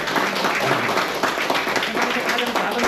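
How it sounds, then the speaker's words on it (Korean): An audience at a summer teacher-training lecture on regional school partnerships claps in a sustained, even round of applause, close and full, with a faint murmur of voices mixed in. "박수 한번 쳐주세요."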